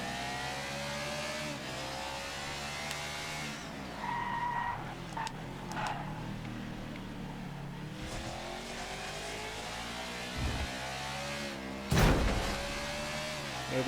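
A NASCAR stock car in the NASCAR 21 Ignition racing game at Homestead drones on with a steady engine tone, breaking into tire squeals and skidding as it slides loose, with a sharper scrape near the end.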